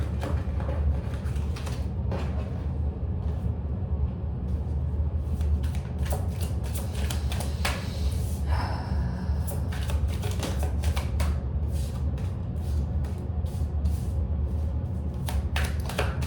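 Continuous riffling and shuffling of a tarot card deck, with rapid crisp flicks and taps repeating steadily throughout, close up and fairly quiet.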